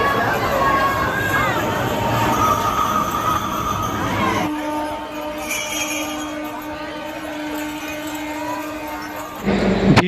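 Dense crowd of pilgrims on the platform at Sheoraphuli railway station during the Tarakeswar Shravan Monday yatra, a continuous roar of many voices and footsteps with a steady tone, loud and close throughout.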